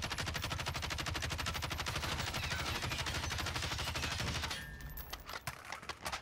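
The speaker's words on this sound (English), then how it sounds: "and then we'll go ahead and fire the weapon" Fully automatic weapon fire in Call of Duty Warzone during a private match, a loud rapid burst lasting about four and a half seconds before cutting off into a few faint trailing clicks.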